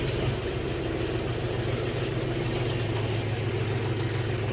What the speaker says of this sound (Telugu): ట్రాక్టర్ అయితే స్టార్ట్ చేసిన